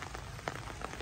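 Steady rain falls over a farm garden of bougainvillea, a dense even patter with a couple of slightly louder drops standing out, no voices.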